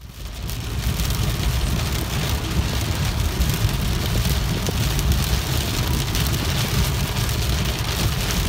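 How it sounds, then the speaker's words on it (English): Steady rain pours down outdoors during a Nordic summer in Finland, a dense, continuous hiss of drops on surfaces that holds evenly throughout, close and fairly loud, with no voices. "we have been waiting for the rain to come, so finally it's here."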